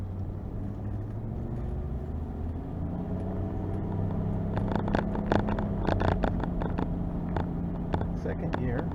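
A 1989 Laforza heads down a steep hill, its engine rumbling low and steady with road noise, and sharp crackles and pops join partway through.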